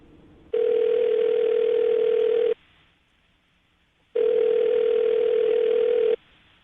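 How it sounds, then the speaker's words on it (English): Telephone ringback tone while calling a radio show guest: two long, steady, even-pitched tone bursts of about two seconds each, separated by a quiet pause, clear and alone. "I'm going to call her right now, see if we can get her on the phone"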